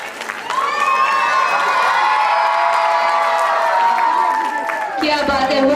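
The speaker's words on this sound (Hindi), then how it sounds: "एक बार जोरदार ताली आ जाए छोटे छोटे बच्चों के लिए" A crowd at a school annual function cheers and claps loudly for small children, with shouting voices blending into a sustained roar that dips and resumes near the end.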